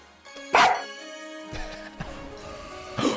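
A dog barks in a few sharp bursts, one loud bark near the start and quieter yaps later, heard up close over a faint tonal backdrop with no talking.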